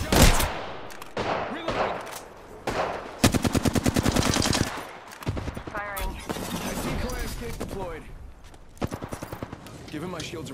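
Rapid bursts of automatic gunfire from the video game Apex Legends, loud and close, with repeated machine-gun rattles broken by short pauses and a voice speaking briefly between volleys.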